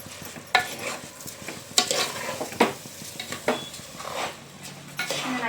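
Food stirred and mixed in a frying pan, with a utensil striking and scraping the metal in sharp, irregular strokes about once a second over a light background sizzle, close to the microphone.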